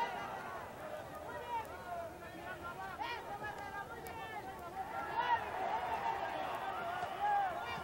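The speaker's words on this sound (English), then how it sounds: "You can hear the crowd starting to get a little bit more into this fight now" Boxing arena crowd during a Barrera vs Santillana fight, a steady murmur of voices and shouts that swells louder toward the end, with commentary talking over it throughout.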